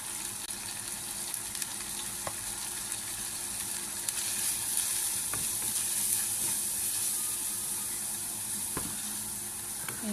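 Onion and garlic frying in a pan as turmeric powder goes in, with a steady close sizzle running throughout and occasional utensil clicks and stirring scrapes over about ten seconds.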